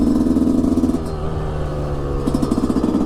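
A 125 YZ supermoto motorcycle engine runs on its first ride, a loud buzzing two-stroke note that pulses and rises in revs, eases, then picks up again, close and without talk.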